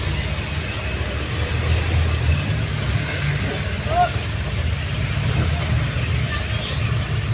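Steady road traffic in a busy area, a constant low rumble of passing cars and heavier vehicles with no breaks, and voices faintly in the mix.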